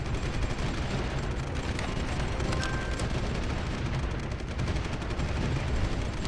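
In Supreme Ruler 2023, artillery and gunfire roll on without pause, a dense wash of crackling shots and booming impacts with no voices.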